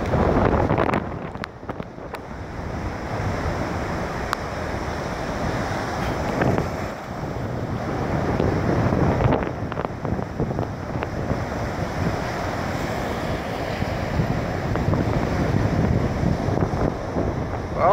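Gulf beach surf washes and breaks in a continuous rushing roar, mixed with heavy wind buffeting the microphone, loud and steady throughout.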